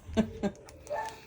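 Two sharp dog barks close together, followed by a softer bark or whine, heard from a short distance in the background.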